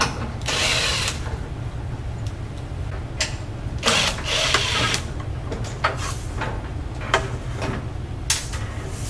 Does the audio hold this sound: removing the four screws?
yes